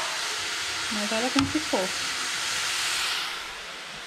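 Free-range chicken cooking in a pot over the fire as its water boils off, giving a steady broad sizzling hiss throughout while someone speaks briefly over it.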